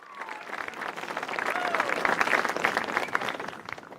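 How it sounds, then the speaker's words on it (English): Canned round-of-applause sound effect played in live-streaming studio software, a crowd clapping that swells toward the middle and stays dense and steady for about four seconds. "Then a round of applause."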